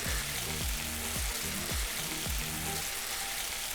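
Steady sizzling of mini burger patties frying in a pan, a constant hiss with faint low thumps underneath, no voices.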